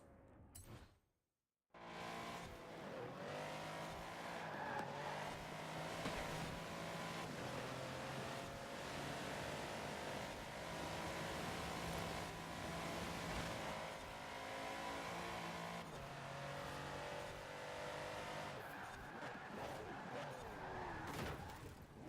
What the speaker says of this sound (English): through these corners, my car is just going to be much better than the other ones in this race